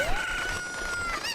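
Cuckoo chickens from Ocarina of Time give a rising crow-like squawk, close and clear over soft game ambience.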